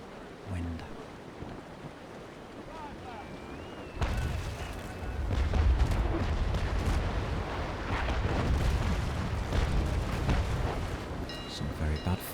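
Sailing warships in Naval Action let loose naval cannon fire. A heavy boom lands partway through and rolls into a long, loud rumble over sea and wind ambience.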